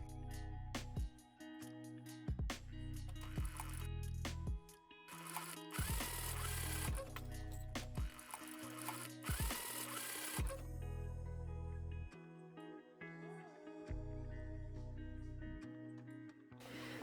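A sewing machine stitches a fold in place on an 80s-style summer dress, running in close bursts of steady mechanical whirring broken by short pauses, with no talking.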